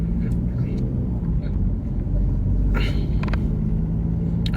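A small car squeezes through a narrow passage, its low engine rumble steady and close throughout, with a few brief rattles and scrapes breaking through partway.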